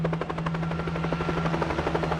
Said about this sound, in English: momentarily interrupted by the roar of the jet-powered motor of this squirrel helicopter